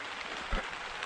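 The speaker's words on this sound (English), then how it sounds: "It is starting to rain hard" Rain begins falling hard at an Adirondack dispersed campsite along Floodwood Road, a steady hiss of drops hitting surfaces with one brief thud, heard alone.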